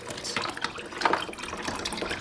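Water running through an aquarium hose while cleaning glass lily pipes, a steady trickling flow with small splashy bursts, close and moderately quiet throughout.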